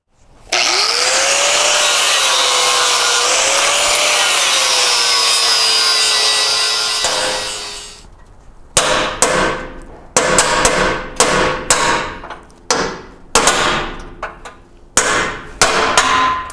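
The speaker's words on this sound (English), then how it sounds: "I want to take this brace, go ahead and grind off the rivets" Grinding off rivets on a brace from a 1973-87 Chevy square body truck, with a long loud whining grind followed by a string of sharp clanks and knocks as the part is handled, close up and with no talk.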